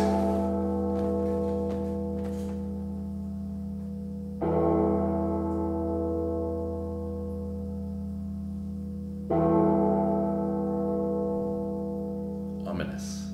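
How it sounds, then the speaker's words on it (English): Deep church bell tolls from a recording, two heavy strikes about five seconds apart, each ringing out with a long, slowly fading metallic hum. "There's the bell."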